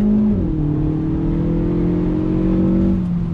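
A 2021 Hyundai Veloster Turbo with a 7-speed DCT and front-wheel drive pulls hard after a paddle downshift, the engine note dropping briefly, then holding a steady, loud rising drone throughout.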